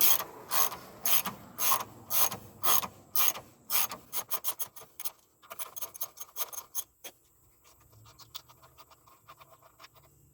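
A ratchet clicks in quick rapid bursts while bolts holding the lower control arm bushing on a BMW E46 are backed out, close and loud at first, then lighter, sparser clicking toward the end.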